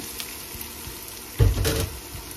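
Pork frying in a pan while being stirred, a quiet background sizzle that swells into a louder burst of crackling and scraping partway through, then settles into steady frying.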